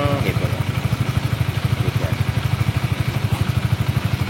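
Honda CBR motorcycle engine idling with a steady, rapid low thumping pulse that holds throughout, close and fairly loud, with faint talk under it.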